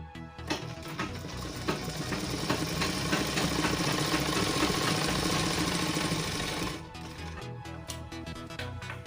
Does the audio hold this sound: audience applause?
no